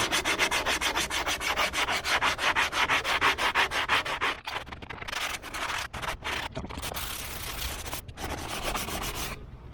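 Rough-grit sanding of dried Bondo body filler on a van body, a loud, close, continuous rhythmic scrubbing that pulses with each stroke, pausing briefly a few times before resuming.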